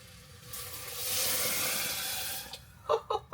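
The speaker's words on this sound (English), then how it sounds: "Now the trick is to get it in the pot without spilling it." Broth pours into a soup pot as a soft, rising liquid splash that swells and fades over a couple of seconds, then a few quick drips land at the end.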